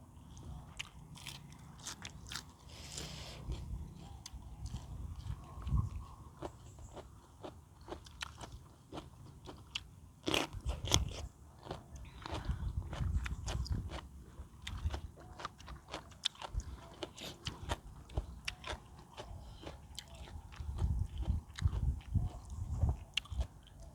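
Crisp, crunchy bites and chewing of raw vegetables eaten with sticky rice and a northern Thai chili dip, a long run of close, irregular crunches outdoors with faint background sounds.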